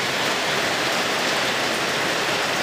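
Rain falls at night at a house in Thailand in early September, a dense steady hiss of downpour, loud and unbroken, with no voices.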